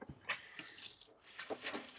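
Water runs from a tap into the sink of a coffee trailer converted from a horse box. It comes in short splashy bursts with a brief gap, close and moderately loud, and no talking is heard over it.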